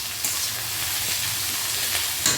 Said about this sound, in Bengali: এইদিকে কিন্তু সবজিগুলো আমার প্রায় ভাজা হয়ে এসেছে